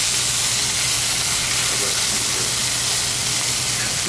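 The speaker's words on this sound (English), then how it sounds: "Good sizzle right here." Steak frying in an oiled pan gives a loud, steady, dense sizzle that holds evenly from start to finish with nothing else over it.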